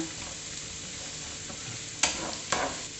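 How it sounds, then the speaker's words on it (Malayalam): Sliced onions sauté in a pan for a Kerala-style beef dish, giving a soft, steady sizzle with a couple of sharp utensil clanks near the end. "ഈ സവാളയും കൂടി ഇട്ട് കൊടുത്തിട്ട് നന്നായിട്ടൊന്ന് വഴറ്റിയെടുക്കണം"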